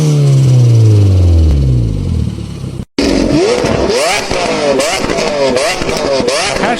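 A loud engine revs hard through open exhaust pipes in repeated rising bursts after a brief cut, following a deep, slowly falling drone.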